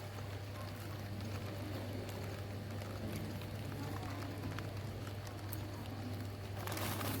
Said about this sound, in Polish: Trochę pada.